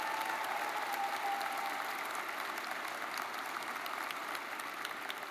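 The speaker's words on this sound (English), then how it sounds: "So give them a round of applause, would you please?" At a May commencement ceremony, a large audience applauds the graduates with sustained, even clapping that fills a big hall and fades slightly toward the end.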